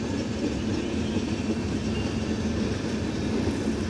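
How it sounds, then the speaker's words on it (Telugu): Tirupati to Hazrat Nizamuddin passenger train passing on track near Malkajgiri, a steady continuous rumble and rolling noise at moderate distance, without a break and without voices. "ప్రజెంట్ ఇక్కడ చూడొచ్చు తిరుపతి నుండి హజరత్ నిజాముద్దీన్ వెళ్ళే ట్రైన్ వచ్చేసి అటు మల్కాజ్గిరి ట్రాక్ పైన నుండే వెళ్తుంది"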